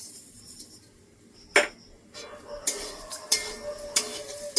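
Sugar is stirred into a pot with a spoon, producing scattered scraping and clinking strokes against the metal, close and fairly quiet, with a few sharper knocks.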